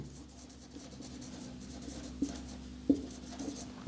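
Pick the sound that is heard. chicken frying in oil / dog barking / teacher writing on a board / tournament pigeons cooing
teacher writing on a board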